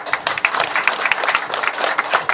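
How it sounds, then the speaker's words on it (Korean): An audience at a panel discussion claps to welcome a lawmaker to the podium, a close, lively patter of many hands that keeps a steady density for a couple of seconds. "박수로 맞아요"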